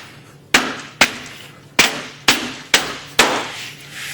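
Six sharp, evenly spaced blows ring out as horizontal aluminum-edged ABS plastic trim is knocked into place on a veneered wall panel, each crisp hit close and loud with a short decaying ring.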